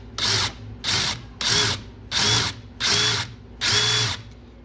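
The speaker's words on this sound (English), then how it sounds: "I'm going to put it in the hole that we just punched, and then I'm going to lightly just drill" A Forstner bit drills into a punched hole for a strap button, in six even, short bursts of whirring power-drill noise separated by brief pauses, close and steady.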